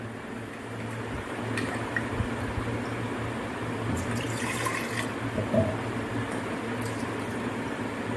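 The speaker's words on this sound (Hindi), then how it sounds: "थोड़ा सा इसमें मैं पानी डाल रही हूँ।" Water poured into a blender jar while making a jaggery mango shake, a steady close liquid pour trickling evenly over a low background hum with no talking.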